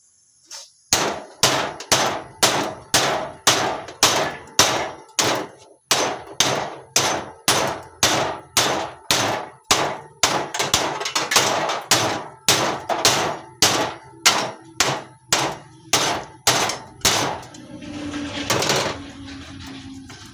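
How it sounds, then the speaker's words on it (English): Sharp metallic clangs ring out in a steady, rapid rhythm, dozens of hammer blows on metal while breaking down a compressor, close and loud, ending with a brief scraping sound. "And you just hammer like that."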